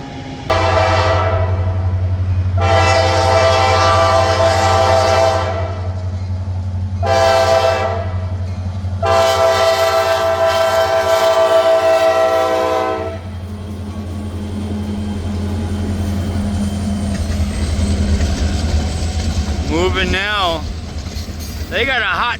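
Freight train locomotives blasting their horn in long repeated sustained blasts over a heavy engine rumble while stopping in emergency after a derailment, with a brief rising whine near the end and people talking nearby.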